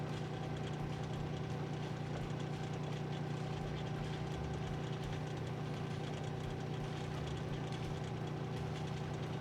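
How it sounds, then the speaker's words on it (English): A small sailboat's inboard engine running at low RPM, a steady, droning hum with a constant low throb, close and unbroken throughout, with no talk. "Now we're going pretty slow with the engine, like pretty low RPMs"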